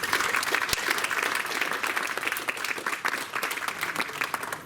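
Steady, dense applause from a theatre audience at the Casino de Sanary, greeting the municipal culture official, with many hands clapping together at an even level throughout.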